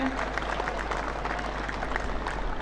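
An audience claps at a speech ceremony on the final day of a village cricket premier league: dense, continuous applause from a crowd, even in loudness throughout.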